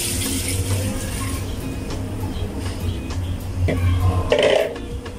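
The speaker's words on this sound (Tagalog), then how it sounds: "So ilagyan na muna natin ng tubig guys." Water poured into a pressure cooker holding pork, jackfruit and pigeon peas, a steady close splashing stream that swells briefly near the end, with light metallic clinks.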